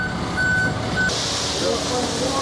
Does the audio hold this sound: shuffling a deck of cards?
no